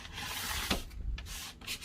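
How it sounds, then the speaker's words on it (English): Sandpaper rubbing stain off a wooden cutting board, a continuous close scratchy rasp with a few quick strokes and brief pauses, heard alone. "I got a little bit of stain there, so I'm going to try to sand it down a bit."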